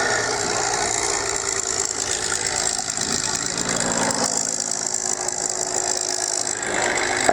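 The engine of a North American P-51D Mustang fighter, Rolls-Royce Merlin powered, drones steadily at an air show display, a continuous mid-pitched hum with a faint rattling texture and no break throughout.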